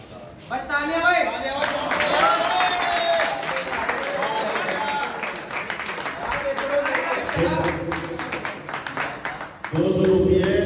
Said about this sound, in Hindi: भाई तालियां भाई